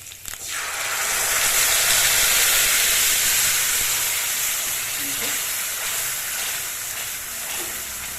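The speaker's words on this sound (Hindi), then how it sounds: "इसमें ये हम अदरक डाल देंगे, और इसमें जो हमने ग्रेवी छान के रखी है उसको डालेंगे।" Strained gravy and ginger hit a spoonful of hot oil in a pan, setting off a loud, steady hiss and sizzle that stays close and continuous, easing off only slightly toward the end.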